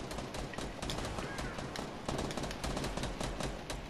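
Dense, continuous gunfire fills a battle-royale style shooter match, rapid bursts overlapping with one another at close range and loud throughout, with a player's voice talking over the shooting.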